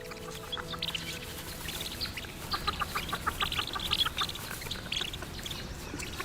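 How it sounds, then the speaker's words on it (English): Outside the nest, a mother duck gives repeated short calls to her chicks, moderately close, with a rising run of clucking notes in the middle and soft background ambience. "she calls to the chicks to encourage them out of the warm, cozy nest"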